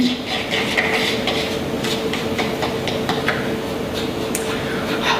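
Peach crunch ingredients are mixed in a bowl with a utensil, producing light scraping and clinking strokes in an irregular rhythm, close by, against a faint steady hum of a kitchen.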